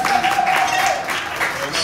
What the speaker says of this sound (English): Save that applause up